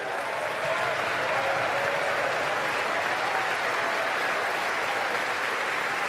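Dense, steady applause from a large audience at a recorded speech, many hands clapping continuously at an even level throughout, with no voices standing out.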